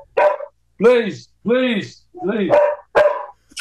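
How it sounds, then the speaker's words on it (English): A dog barks close by in five or six loud, separate woofs with brief gaps between them, and a person briefly speaks over it. "it's my dog barking"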